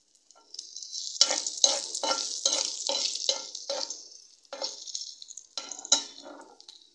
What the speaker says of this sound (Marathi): आता आपण आलं आणि लसूणचे पहिले तुकडे टाकूया।